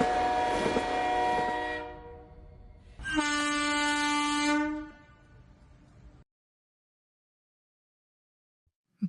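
A train horn sounds two long, loud, steady blasts, the second richer and more forceful, each rich in harmonic tones. The second blast fades to silence.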